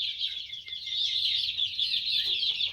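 Chickens clucking on a rural Thai farm, a dense, fairly faint chorus of high clucks and chirps going on continuously, with no talk.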